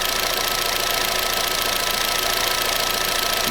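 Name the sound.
car engine idling with knocking noise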